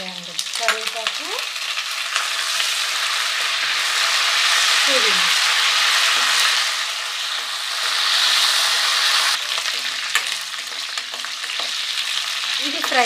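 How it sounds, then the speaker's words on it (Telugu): Curry leaves fry in hot oil for jeera rice, a loud, close sizzle that swells and eases with occasional stirring scrapes, and a voice speaks briefly at times. "ఇది వేగుతున్నప్పుడు ఇది వేసేయండి, కరివేపాకు,"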